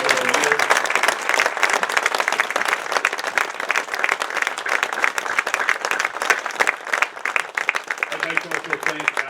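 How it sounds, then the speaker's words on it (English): A high school senior awards assembly audience claps steadily for students, a sustained, fairly loud roomful of applause throughout, with a voice briefly heard at the start and end. "give our students assembled here a wonderful round of applause"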